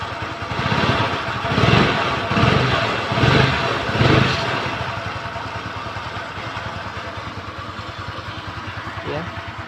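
A Kymco Easy scooter engine revs up several times in quick pulses, then settles into a steady idle rumble, close by.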